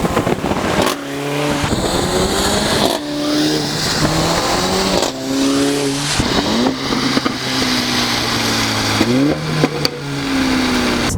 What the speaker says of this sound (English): you get these crackles and pops every time you lift off the gas